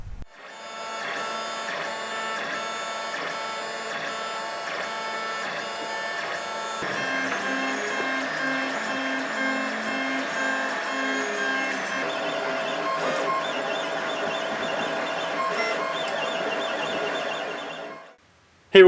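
A 3D printer prints parts for a BB-8 droid, its stepper motors whirring in steady tonal patterns that shift pitch as moves change, continuous and close with no talking, stopping abruptly at the end.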